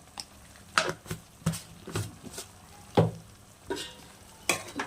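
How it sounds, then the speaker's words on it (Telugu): Chicken frying in a pan with onion, tomato and chilies, a soft sizzle broken by repeated scraping stirs at an uneven rhythm, close and fairly quiet. "బాగా వేగిన తర్వాత ఈ చికెన్ వేసాను ఫ్రెండ్స్"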